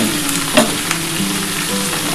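Food frying in a pan during Bengali cooking of ridge gourd and potato with poppy seeds, a steady close sizzle and crackle with a brief stir clatter, no talking.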